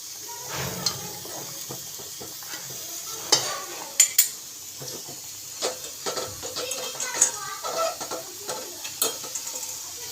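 Potatoes frying in a pan in a home kitchen, a soft sizzle with scattered stirring scrapes and light clinks, close but fairly quiet, with faint voices in the background.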